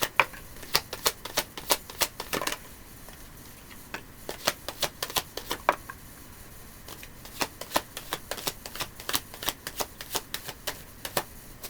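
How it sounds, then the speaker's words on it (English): Playing cards being shuffled and drawn by hand: a scattered series of sharp, close taps and flicks with uneven pauses between them, crisp and dry over a quiet room, with no talking. "So I'm just going to draw a few cards here."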